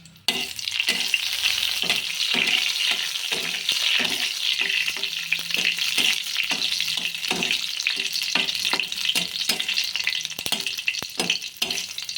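Dried red chilies frying in oil for moong dal with bottle gourd, a steady close sizzle with frequent stirring clinks and scrapes throughout, no talking.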